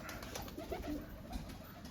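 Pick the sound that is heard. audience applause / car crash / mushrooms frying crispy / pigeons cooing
pigeons cooing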